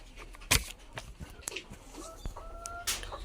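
Local native chickens cluck softly in a quiet farmyard, a few short scattered clucks and calls with one sharper sound, faint and without talk.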